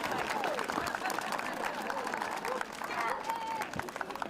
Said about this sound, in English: Nice round of applause for Ms.